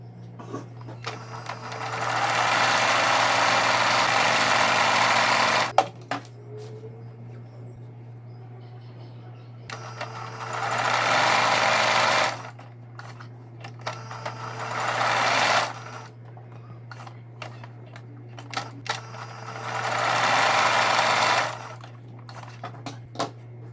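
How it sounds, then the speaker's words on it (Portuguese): A sewing machine stitches the sides and bottom of a fabric basket in four clear whirring bursts of a few seconds each. Quiet pauses with small handling noises separate the bursts. "nós vamos vir aqui e costurar as laterais e a parte de baixo"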